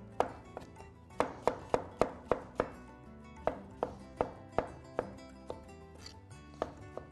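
A knife dices a tomato into small cubes on a cutting board with a long series of crisp, close chops in quick bursts that then slow to single strokes, with no talk.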